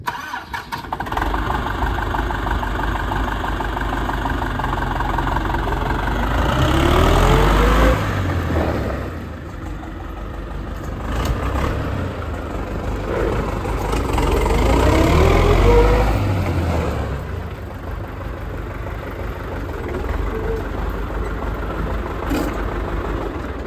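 A YUMZ tractor engine, with new cylinders and freshly repaired brakes, idles steadily and loudly, swelling twice into heavier revving before settling back to a low, even chug.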